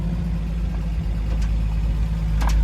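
A 1950 Chevy car engine runs steadily while driving, a loud low rumble that drones evenly throughout with faint rattles, and no voices.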